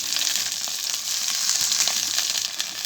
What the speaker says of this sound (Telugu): ఒక ఇంచు అల్లం ముక్క ఉంది కదా ఇది కూడా నూనెలతో వేపేసుకుందాం